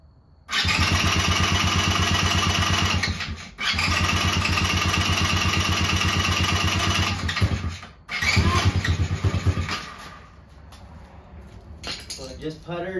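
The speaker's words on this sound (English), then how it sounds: "So I just sprayed some starter fluid in it. Let's see if that'll make it fire." A Tao Tao 110cc quad engine fires up on starter fluid and runs loud and steady for several seconds, briefly cuts out, then catches again before dropping to a quieter sputtering idle.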